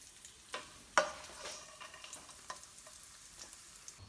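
Cashews frying in ghee in a pan for rava laddu: a soft, steady sizzle under a spoon stirring, with a few sharp clinks and scrapes against the metal, close and fairly quiet.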